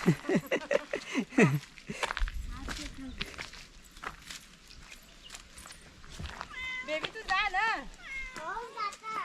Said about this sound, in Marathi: हो, मांजरू पण आला इकडे